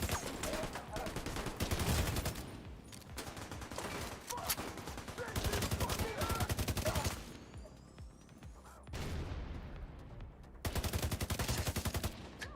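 Sustained rapid automatic gunfire in a first-person shooter game, long bursts of fast shots with short pauses between them, faint and distant in the mix.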